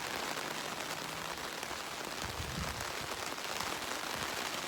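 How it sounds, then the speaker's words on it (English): Steady rain falls during a walk past a barn, with water running off the roof; a continuous broadband patter and splash holds at an even level throughout, with no voices. "since we take a walk in the rainy day, and you think maybe I can get a little bit of water coming off of there"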